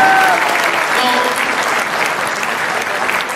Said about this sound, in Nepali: ताली बजाउँ हालेलुया